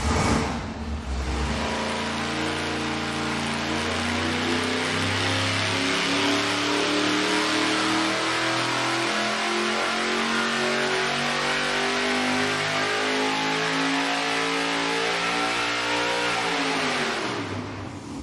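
A ProCharger-supercharged engine on a dyno, loud and close, rising in one long sustained pull with climbing pitch and blower whine before cutting off near the end.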